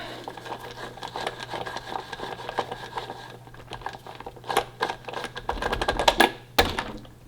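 A 17mm socket wrench works a wheel nut loose during a tire and wheel removal, producing rapid close ratcheting clicks that build toward the end over a low steady hum, with no speech.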